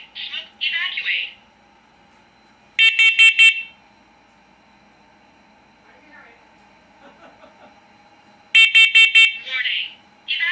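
A First Alert smoke alarm under test sounds loud, close electronic beep bursts in quick groups of three, with spoken voice warnings between them in a quiet room.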